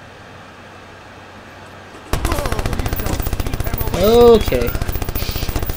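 Rapid automatic gunfire from Watch Dogs on PS3 bursts in suddenly after a quiet stretch and rattles on loudly and continuously, with a short swelling whoosh partway through and a brief spoken word.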